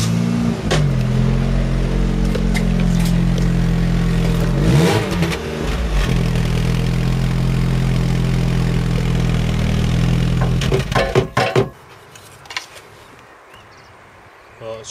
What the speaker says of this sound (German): Kannst du den Motor nochmal anmachen?